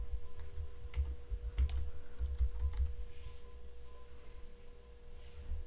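Typing on a computer keyboard, a quick run of soft key clicks close by over a low steady hum, then fading to fewer taps.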